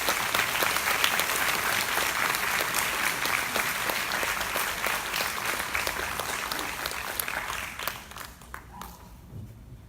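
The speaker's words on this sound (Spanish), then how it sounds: "Un aplauso, por favor." A crowd at a talk on state violence in El Salvador applauds steadily for several seconds, the clapping loud and dense before thinning and fading out near the end.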